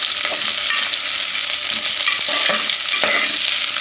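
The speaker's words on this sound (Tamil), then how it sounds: "நம்ம போட்ட வெங்காயம் பூண்டு இதெல்லாம் நல்லா வதங்கிடுச்சு" Steady sizzling of onions and garlic frying in a pan, with occasional stirring scrapes over a constant hiss.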